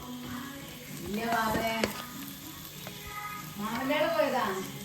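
Onions and chili powder fry in a pan for a Kerala chicken kappa biriyani, a close, steady sizzle with stirring scrapes, while a person speaks over the cooking.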